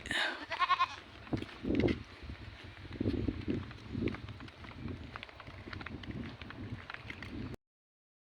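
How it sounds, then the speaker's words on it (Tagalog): Goats bleat in several short calls on a farm in the Philippines, with livestock shuffling and rustling close by and a loud, busy outdoor background throughout. "Kambing dito."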